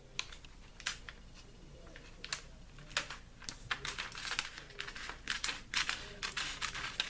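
Mylar sheet being cut while wrapping a book dust jacket, giving a string of short, sharp crisp snips and crinkles at close range, quiet and irregular, with no voices.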